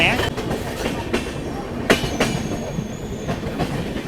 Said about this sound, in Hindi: यहाँ हम हजरत निजामुद्दीन रेलवे स्टेशन पर स्किप कर रहे हैं।